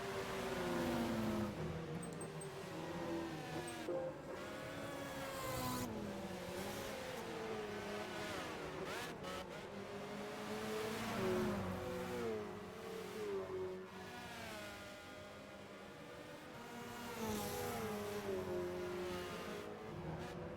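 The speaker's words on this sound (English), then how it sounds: "for a race car, how the Audi A4 sounds, because it's a very unique engine note" Audi A4 race car from Gran Turismo 5 with a distinctive engine note, revving steadily through gear changes amid other cars, sustained at moderate volume throughout with no talking.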